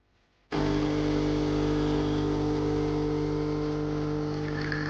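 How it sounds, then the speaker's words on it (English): A coffee grinder set to coarse setting 15 grinds beans for French press, starting abruptly and then holding a loud, steady whirring drone up close. "I went coarser at grind setting 15. This was coarse enough for French press."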